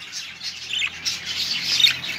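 Young parakeets, about eight or nine months old, carriers of the fallow colour mutation, squawk at a bird-breeding aviary: harsh, overlapping calls repeating close by with no talking.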